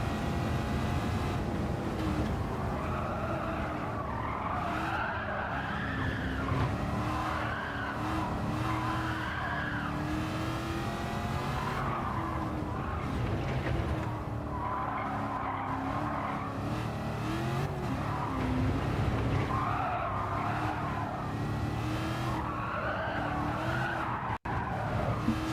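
Race cars in Gran Turismo 7 on PSVR2 skid and squeal with steady tire screech over a continuous wavering engine roar, loud and close throughout.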